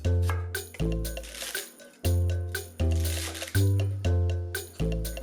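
Potato salad ingredients are tossed into a big mixing bowl, a series of about seven loud, soft wet thumps and squishes spaced roughly evenly with short tails after each.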